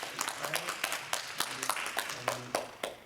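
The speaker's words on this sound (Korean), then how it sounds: "우리 감사의 박수." Members of a church congregation clap in thanks during Sunday worship, a light, uneven patter of individual hand claps heard from a little distance, faint and short-lived.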